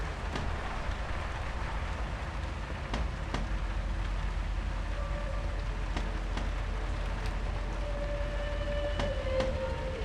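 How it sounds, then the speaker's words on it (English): Steady rain in the video game Mundaun, a dense continuous hiss with scattered sharper drips and occasional faint tones over it, no voices. "Sounds like rain."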